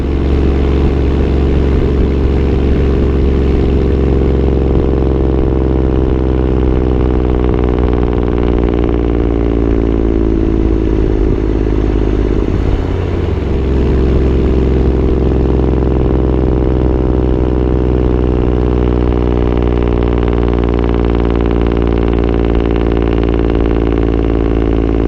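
A Nissan Patrol 6.5L turbo diesel V8 drones steadily while driving on the overrun downhill, a loud continuous low rumble with a slight pitch dip midway, heard from close by with no talking.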